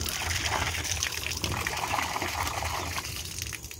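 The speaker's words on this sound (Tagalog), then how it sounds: "Ito guys ang poso namin. Dito ako sumasalok ng tubig." Water gushes steadily from a hand pump outdoors in a garden, a continuous splashing pour close by with no talk.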